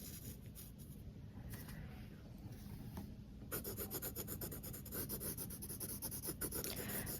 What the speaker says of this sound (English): I'm going to start again using that side edge of my pencil, and I'm going to shade